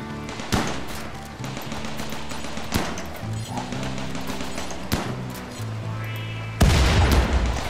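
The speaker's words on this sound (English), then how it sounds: "my gun turrets are attacking these guys" Gun turrets in Rimworld firing at attackers, a series of sharp irregular shots and thumps over a busy game soundscape, ending in a louder burst.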